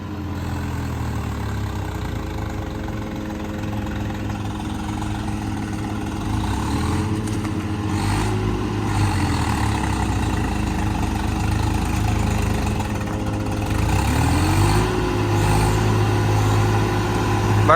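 A 75 horsepower tractor engine runs steadily at a low idle-like throb, close and continuous, rising slightly in loudness partway through with no talk over it.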